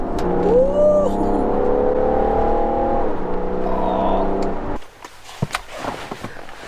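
A BMW 640d on winding roads pulls hard in loud, close engine tones that rise and shift as it accelerates between bends, then cuts off abruptly, leaving faint knocks and rustles.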